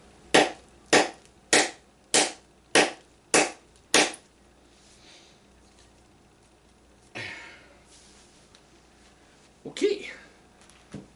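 A CRKT Clever Girl kukri strikes wood in seven sharp, evenly spaced chopping whacks, close and loud, followed by a couple of scattered handling knocks after a short pause.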